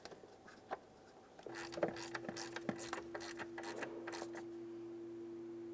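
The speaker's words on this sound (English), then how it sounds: "start in your one mounting screw and snug it up" A ratchet snugs a mounting screw on a 2003-2011 Mercury Grand Marquis radiator fan relay, a fast run of close, crisp clicks after a few scattered taps, with a steady hum underneath.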